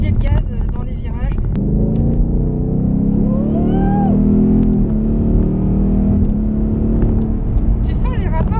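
A Ford Mustang GT convertible rumbles steadily from inside the car as it is driven, its deep engine note swelling as it accelerates, with people talking over the drone.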